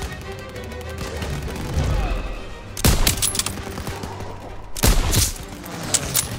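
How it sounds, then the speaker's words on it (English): Gunfire during a sniper mission in the video game Stronghold, a low rumble of battle broken by two loud, close volleys of rapid shots, with shouted voices amid the noise. "They're taking fire from behind!"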